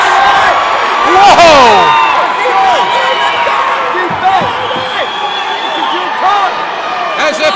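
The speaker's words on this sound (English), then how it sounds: "This crowd going nuts!" A crowd at an amateur MMA fight night roars and whistles loudly and continuously as the action builds, while a commentator talks excitedly over the noise.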